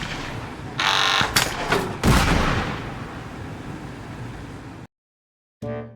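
Gunfire during a terrorist attack in the video game Papers, Please: a few sharp, loud game gunshot blasts in quick succession, each with a rumbling tail, then abrupt silence and a brief final burst.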